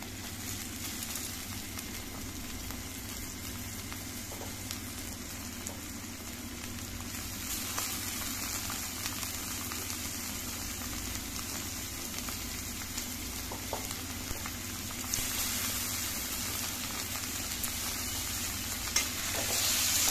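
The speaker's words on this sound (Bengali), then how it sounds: "পেঁয়াজ রসুনটা একটু ভাজা হোক" Onion and garlic fry in a pan with a soft, continuous sizzle and crackle that swells slightly toward the end, heard close with no voices.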